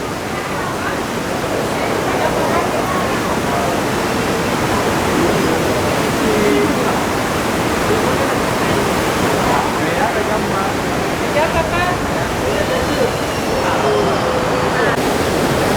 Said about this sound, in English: this is why they call it Whitewater, with all these rapids here